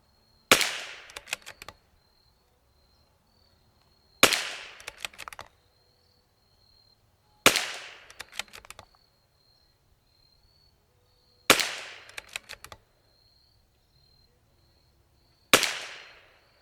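Five sharp rifle shots from a .22 rimfire firing Eley Match ammunition on a target range, spaced about three to four seconds apart, each a loud crack followed by a brief rattling echo over an otherwise quiet background.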